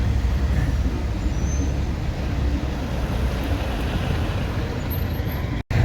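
A truck rolling slowly through rush-hour city traffic, a constant loud low road and engine rumble with a dense hiss of surrounding traffic, cutting out abruptly for a moment near the end.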